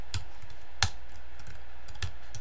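Sparse keystrokes on a computer keyboard, a handful of sharp, separate clicks spaced irregularly, close and alone against a quiet background.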